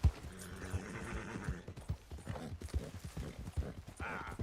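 Horse hooves clip-clop in a steady trotting rhythm in Red Dead Redemption 2, close and distinct over faint game ambience, with a brief whinny-like texture near the end.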